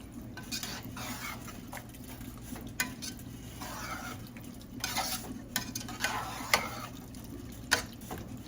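Beef tikka frying in oil and butter in a karahi pan over raised heat, a steady close sizzle broken by repeated scraping stirs and metallic clinks of a utensil against the pan.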